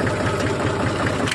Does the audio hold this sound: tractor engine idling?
yes